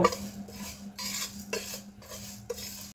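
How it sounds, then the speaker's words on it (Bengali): Whole cumin and panch phoron spices being stirred and fried in a pan, a run of metallic spoon scrapes and clinks in uneven bursts over a faint low hum. "এখন এগুলোকে নেড়েচেড়ে ভালোভাবে ভেজে নেব"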